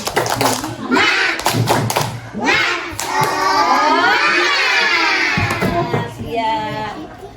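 Classroom of students doing a rhythmic spirit clap, hand claps in a patterned beat mixed with voices chanting and calling along, close and lively.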